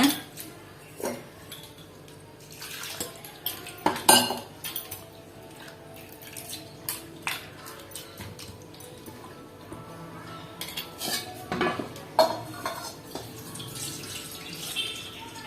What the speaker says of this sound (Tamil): ஒரு 2 தடவை கழுவி ஊற வச்சுக்கலாங்க